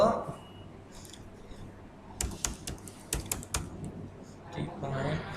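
Rapid bursts of computer keyboard typing, a run of sharp clacking keystrokes in the middle, with speech around it.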